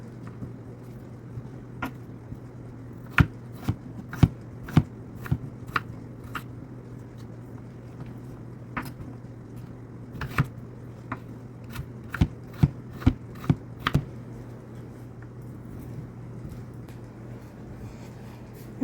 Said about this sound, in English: I'm going to go ahead and slice them into cubes